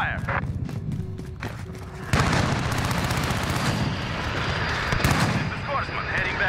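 Rapid bursts of automatic gunfire in the Modern Warfare video game, with an MP7 submachine gun firing electrical tracer rounds, crackle loudly and nearly continuously, with short gaps and heavy shots at the start, under in-game team radio chatter.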